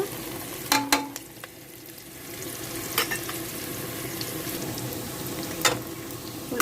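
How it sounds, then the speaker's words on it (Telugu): Onions frying in a pan for meal maker pulao, a quiet ongoing sizzle with a few sharp scraping clacks of a spoon stirring at intervals, and no talking. "ఉల్లిపాయలు వేగుతున్నాయండి ఇంకొంచెం వేగాలి ఎర్రగానే"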